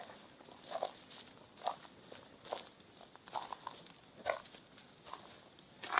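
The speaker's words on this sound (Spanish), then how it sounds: "Muchas veces con los sonidos de las pisadas se pueden pillar cosillas." Footsteps walking on a rough path at the Alfaguara, an irregular series of crunching steps at a moderate pace, close by and alone.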